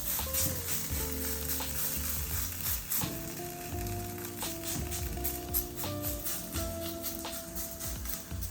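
Ragi adai batter fries on a hot pan with ghee, a steady close sizzle and crackle running the whole time with a few faint rattles.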